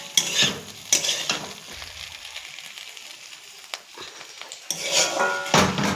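Food fries in a pan in a home kitchen with a steady sizzle, broken by loud scraping stirs of a utensil against the metal at the start, around the middle and again near the end.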